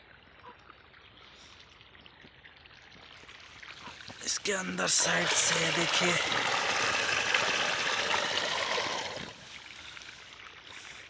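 Water pumped by several running motors flows together into a fenugreek field at sunrise, rising to a loud, steady rushing gush for about five seconds mid-clip before dropping away, with someone talking throughout.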